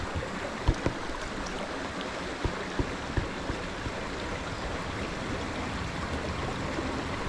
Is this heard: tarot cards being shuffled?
no